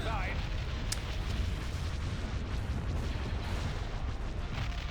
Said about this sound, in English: turrets that actually get blown off now will, yeah, they'll actually they'll get blown off